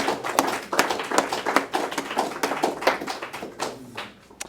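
A room of recovery-meeting attendees claps for the next speaker at a sober gathering, a fairly quiet, scattered patter of hands that swells briefly and then thins out over a few seconds.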